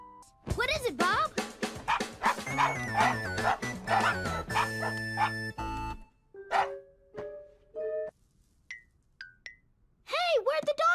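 Cartoon puppy yips, barks and whimpers in a quick series of high, bouncy bursts, with animated character voices talking in between.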